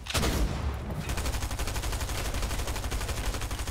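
Rapid automatic gunfire in a shooter video game, one dense burst of fast repeated shots after a loud opening crack, close and loud, running almost without pause.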